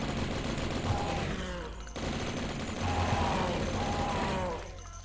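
Rapid gunfire in the video game Blood rattles on without a break as zombies are shot down, with dense, loud, continuous bursts through most of the stretch.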